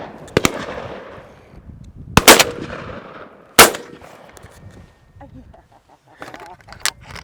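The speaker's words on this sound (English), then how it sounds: "I then shoot a left and a right." Three sharp shotgun reports from a Beretta A400 Upland semi-automatic during a game shoot, spaced a second or so apart, the first two close together and loud, with scattered fainter cracks and outdoor noise trailing after.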